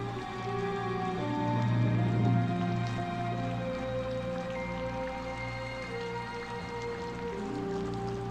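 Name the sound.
rain pouring in film Singapore Sling opening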